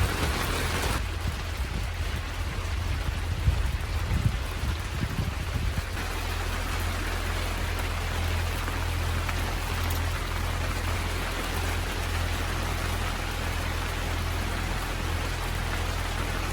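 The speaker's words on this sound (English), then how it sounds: "it's pouring down with rain" Heavy rain pours down in a continuous, dense hiss on a sailing catamaran in Ayvalık, with a low rumbling underneath during the first few seconds.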